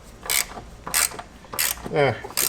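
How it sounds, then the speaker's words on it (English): Sharp ratcheting bursts from a ratchet wrench tightening the top bolts of Ohlins coilovers on a BMW M2 F87, four quick close clicking runs separated by brief pauses. "Tighten up the top bolts."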